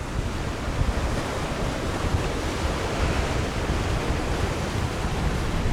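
Sea waves wash against the shore at Barry Island in a continuous loud roar of surf, mixed with gusty wind buffeting the microphone and no speech.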